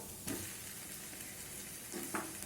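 Vegetable masala frying in a pan as potatoes are added, giving a steady soft sizzle with a couple of faint stirring clinks, fairly quiet and close.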